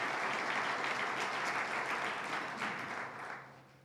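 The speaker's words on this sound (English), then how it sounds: "So please give them a round of applause" An audience at a public developer candidate forum gives a dense, continuous round of applause that holds steady and then tapers off toward the end.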